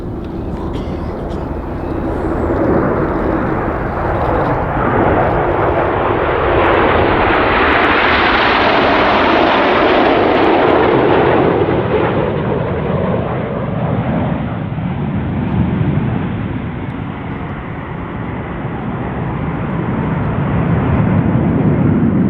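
BAE Hawk T1 jets of the Red Arrows fly a display at the Royal International Air Tattoo, a loud, continuous jet roar that swells as the aircraft pass overhead and then slowly fades, under commentary from a public address announcer.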